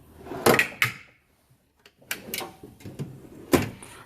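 A drawer slides and thumps open, then closes, with sharp wooden knocks and rattling contents, close by and without talk.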